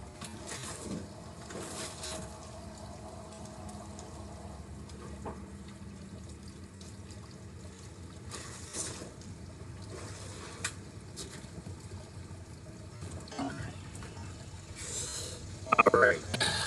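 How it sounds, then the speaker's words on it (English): Water from an aquaponic system waterfall runs in a steady, soft wash that fills the background, with a few louder splashes and clicks near the end. Someone speaks quietly over it at times. "I got a waterfall behind me."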